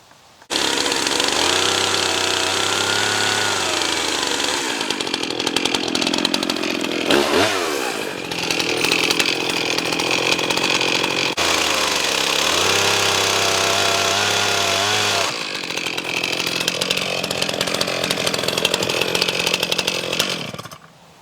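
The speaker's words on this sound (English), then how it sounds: "Let me get the chainsaw out." A chainsaw trims chainsaw-milled wood slabs, loud and close, the motor idling low then revving hard into long cuts, dropping briefly between passes and cutting again over about twenty seconds.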